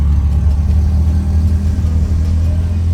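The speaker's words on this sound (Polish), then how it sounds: "tutaj koło nas drugi Uber przejeżdża" A car passing on a Cairo street, heard as a loud, close, steady engine rumble with a mid-pitched drone that holds throughout, with no talking.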